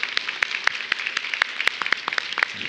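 A church congregation claps together after a prayer during a Sunday service, a brisk, sustained patter of many hands at moderate distance with no talking over it.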